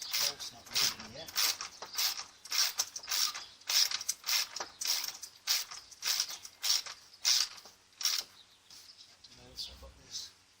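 Ratchet wrench tightening a bolt on a solar panel mount, a series of rhythmic clicking strokes close up, steady and fairly loud.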